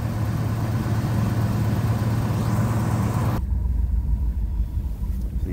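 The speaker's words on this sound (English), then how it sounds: "Now it's coming up into high idle and clearing out." The engine of a 1981 Turbo Trans Am rumbles steadily at close range, its raised idle holding a constant drone before the upper hiss abruptly drops away partway through, leaving a lower, smoother idle.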